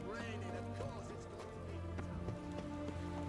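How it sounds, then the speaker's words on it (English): Steady rain falls across an outdoor scene in The Witcher 3, a broad continuous patter with music and game sounds mixed beneath it, running the whole time at an even level. "It's raining, of course it's"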